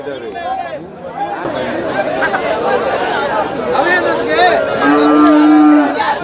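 Cattle at a bullock market moo loudly and close, several long calls rising over steady crowd chatter and people talking nearby.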